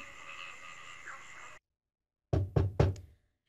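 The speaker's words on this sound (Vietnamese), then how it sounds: "tiến lên gõ cửa, gọi lớn" A fist knocks on the door of a rented room, four quick, solid raps close by after a humming stretch and a moment of silence.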